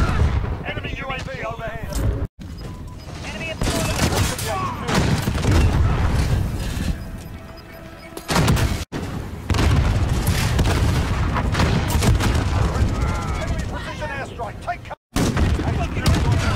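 RPG-7 rocket blasts in a first-person shooter video game, loud booming explosions and gunfire in a dense battle mix, broken by brief silent cuts, with voices talking over the action.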